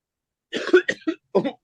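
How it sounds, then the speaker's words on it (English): Several harsh coughs after deeply inhaling essential oil, close by, a burst of three followed by a short pause and two more. "Be prepared to cough a little bit here."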